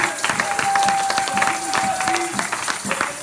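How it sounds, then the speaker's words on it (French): Church congregation applauding and cheering together, a dense steady wash of clapping with crowd noise and a held tone over it, fairly loud throughout. "Est-ce qu'on peut donner une bonne acclamation à l'Église?"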